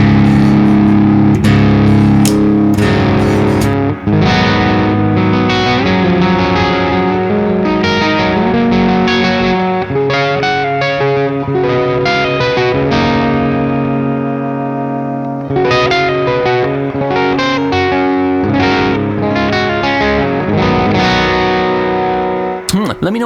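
An electric guitar through an Orange Rockerverb amplifier with the bass setting turned up, playing loud, full, distorted chords and riffs with a deep low end and some reverb, continuous for over twenty seconds.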